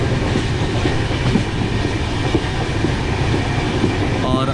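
The Ranthambhore Express rolls on the line toward Ujjain Junction in a steady, heavy rumble with a rhythmic clickety-clack of wheels over rail joints, heard from aboard the moving train.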